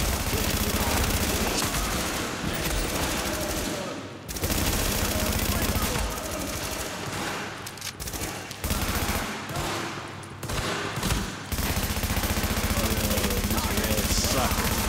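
Sustained automatic gunfire in The Division, dense overlapping bursts from several weapons nearly nonstop over a long stretch with brief gaps, loud and close, while a player talks over it.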